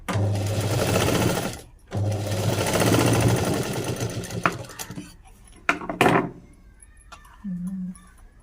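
A sewing machine runs close and loud, stitching waste cloth in two sustained bursts with a brief stop between them. Scattered clicks and handling noises follow as the stitching ends.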